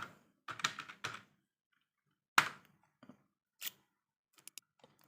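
Keyboard keys tapped to type a search for a LAN card, in short close bursts of clicks with brief pauses between them, fairly quiet.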